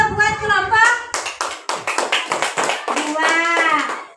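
A classroom group claps its hands in a short burst of rapid, close, loud applause, with voices speaking before and after the clapping.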